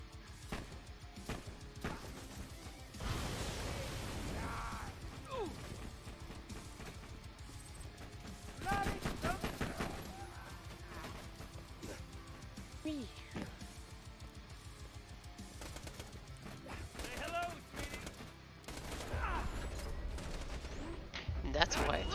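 Rapid bursts of automatic gunfire in the shooter game Borderlands 2, volleys of shots repeating across the scene and mixed with explosions and game effects, with people talking over the action.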